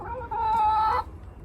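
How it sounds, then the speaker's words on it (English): A charismatic, noisy backyard hen lets out a single drawn-out cluck, a nasal tonal squawk lasting under a second, close and fairly clear against quiet surroundings. "She's definitely the most charismatic hen."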